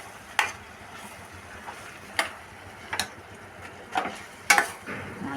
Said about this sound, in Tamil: இப்போ உருளைக்கிழங்கு அதோட சேர்த்து ஒரு கிண்டிக்கிடுவோம்.